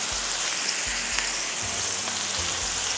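Lamb burger patties sizzle steadily in a hot pan, a close, continuous frying hiss with small pops and crackles throughout.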